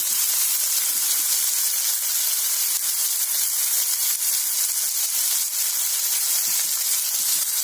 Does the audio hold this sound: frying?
yes